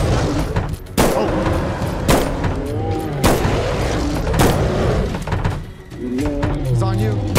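Gunfire bursts in a Bigfoot hunting video game, sharp broadband cracks recurring roughly every second over loud game ambience, while several players shout and talk excitedly throughout.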